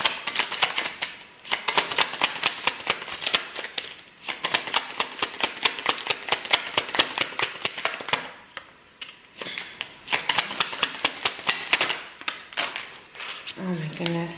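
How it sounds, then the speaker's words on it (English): Tarot cards fluttering and slapping onto a floor, a long rapid patter of crisp papery clicks in dense bursts, loud and close with brief gaps. "cards are falling everywhere on the floor"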